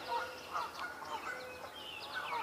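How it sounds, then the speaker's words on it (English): Geese honk outdoors near a pond with lily pads, several moderately loud honks overlapping in uneven bursts over a steady background hum. "I hear some geese."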